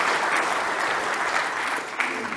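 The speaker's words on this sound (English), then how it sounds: "So a big round of applause for all of our customers and partners that are here." Keynote audience at Innovate! Geneva 2022 clapping for customers and partners, a dense, steady roar of applause filling the hall, loud and sustained throughout.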